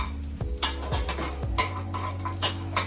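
Cutlery clinks and scrapes against a bowl as Old Bay, salt and garlic powder are stirred into shrimp, a run of close, uneven clatters and taps with no talking.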